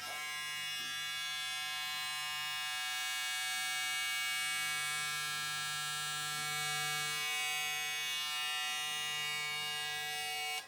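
A magnetic-motor hair clipper with a very thin blade hums steadily up close, a constant electric buzz with a bright tonal whine that holds even for the whole stretch.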